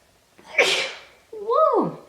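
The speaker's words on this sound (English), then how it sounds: "Oh my God, I'm about to sneeze." One loud, close sneeze bursts out sharply, then a voice follows with a rising and falling exclamation.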